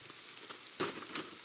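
Rain falls in the farming video game Big Farm Story, a faint steady patter and hiss with a couple of slightly louder splashes.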